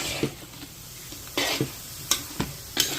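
Pancit sotanghon glass noodles are stirred in a hot pan, a steady low sizzle broken by several sharp scraping strokes of the utensil against the pan, close and fairly clear, with no talking.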